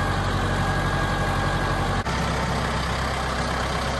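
Kubota tractor engine running while back-dragging a driveway, a steady loud diesel drone with a brief dip in the middle, no talk.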